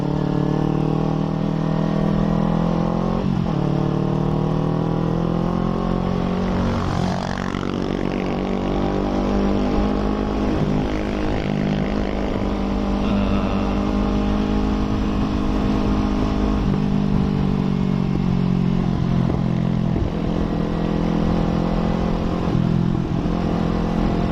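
A Honda PCX scooter-style motorcycle, said to have a fault, runs close by with a loud, steady engine drone. Pitch rises and falls slightly as it revs, and no one speaks.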